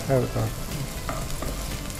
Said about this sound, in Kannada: ಆಮೇಲೆ ಈ ಥರ ಫ್ರೈ ಮಾಡಿದರೆ ಚೆನ್ನಾಗಿರುತ್ತೆ